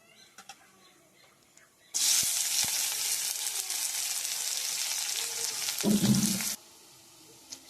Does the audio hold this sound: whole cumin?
yes